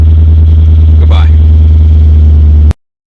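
A 2006 Infiniti M45 Premium sedan's engine holds a loud, steady rev with a brief rising surge in the middle, then cuts off abruptly.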